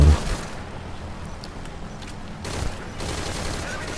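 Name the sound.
rapid rifle fire in Metal Gear Solid Ground Zeroes video game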